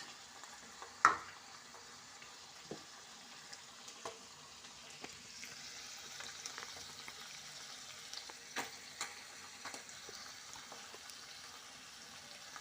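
Minced meat fries with masala in a pan for keema curry, a soft continuous sizzle with occasional stirring clicks and taps, faint and close.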